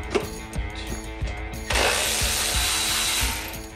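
Close tool whirring and ratcheting clicks while parts are unscrewed on a zero turn mower carburetor, turning into a louder, steady rasping rush partway through.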